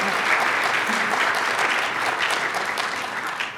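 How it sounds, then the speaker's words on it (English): An audience at a symposium's lightning talks claps steadily throughout, dense applause that slowly tapers near the end. "Another round of applause for everybody that came up and spoke."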